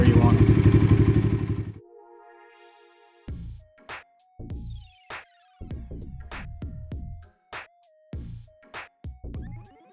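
An Apollo DBX18 125cc dirt bike engine runs with a rough, pulsing low rumble for under two seconds after a carburetor adjustment, then cuts out. Scattered clicks, clatter and tonal beeps follow.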